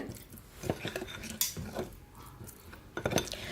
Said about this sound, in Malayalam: ഇതെല്ലാം കൂടെ ഒന്ന് നന്നായിട്ടൊന്ന് മിക്സ് ആക്കി എടുക്കുന്നുണ്ട്